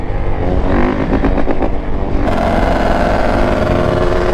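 Banshee ATV and dirt bikes race close by, engines loud and revving hard throughout, one machine's pitch climbing sharply partway through as it accelerates past.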